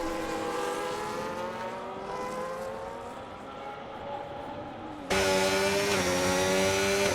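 Simulated Formula 1 cars in F1 25 thundering down the main straight at the Circuit of the Americas, a steady high-pitched engine whine that rises in pitch, then a sudden louder, closer car bursts in near the end.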